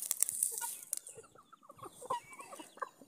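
Free-range chickens on a poultry farm cluck in scattered, fairly close bursts and calls, with light rustling between them and no talking.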